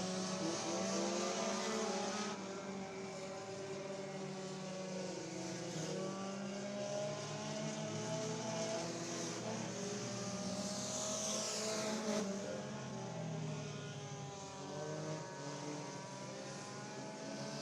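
Race cars lapping the track at Sugar Creek Raceway during the Spring Nationals, a continuous loud engine drone with shifting pitches and one rising whine as a car sweeps past, heard at a distance.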